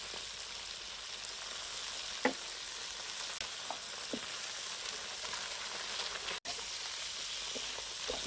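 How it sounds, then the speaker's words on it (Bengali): Okra frying in hot soybean oil in a kadai with a dried red chilli, a steady loud sizzle throughout, broken by a few faint scrapes and clicks of stirring. "ভেন্ডিগুলো ভালো করে একটু নেড়েছে ভেজে নিব।"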